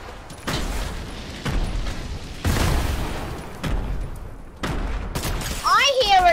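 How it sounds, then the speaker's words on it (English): Video game firefight with repeated loud explosion blasts and bursts of gunfire, roughly one every second, ending in a rising whistle-like sweep, with no talk over it. "A lot of explosion."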